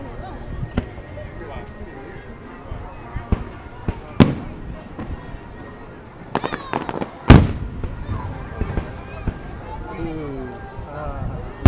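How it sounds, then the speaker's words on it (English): Fireworks burst at a 4th of July show, scattered loud booms and crackling pops near and far, with one heavy blast standing out, under people talking throughout. "When you see a whole bunch of fireworks going at the exact same time"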